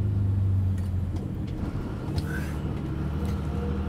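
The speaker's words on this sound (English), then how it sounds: "garbage truck," A garbage truck on its daily collection route, its engine rumbling steadily close by with a brief rise in revs partway through, no talk over it.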